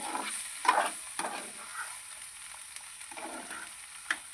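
Spinach greens go into a pan and are stirred, bringing short bursts of sizzling and rustling scrapes over a soft background hiss, fairly quiet, with no speech.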